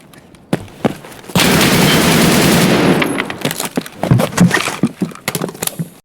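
Automatic gunfire sprays in Escape from Tarkov: a few scattered shots, then a loud, dense burst of sustained fire lasting about a second and a half, trailing off into sharp, irregular individual shots.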